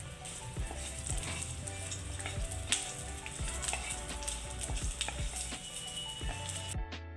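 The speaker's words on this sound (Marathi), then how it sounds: "आता याच्यानंतर थोडंसं प्रमाणात आलं लसूण ते पण थोडंसं गरम करून घेऊया। थोड्या प्रमाणात तेल टाकून परतून घेऊ ते पण।" Ginger and garlic fry in a little oil, giving a steady, close sizzle with soft stirring clatter throughout before it cuts off near the end.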